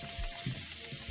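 Asparagus cooks in a pan, giving a soft, steady sizzle and crackle of frying that runs quietly through the whole brief moment, with faint stirring thumps beneath.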